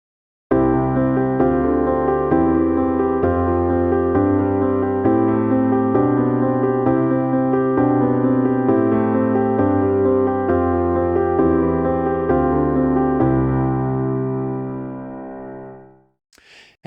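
Piano chords played in a steady, constant rhythm with the progression doubled up, one chord on every beat of the bar. The sustained harmony carries for about fourteen seconds before the last chord fades, with no talking.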